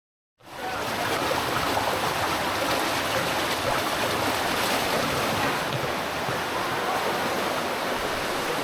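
Steady rushing water fills the whole stretch after a brief silent start, a continuous broadband wash like a stream being waded through, close and loud with no talking.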